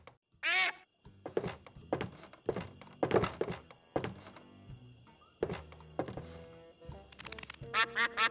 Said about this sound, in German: Eine ziemlich unspektakuläre Ente.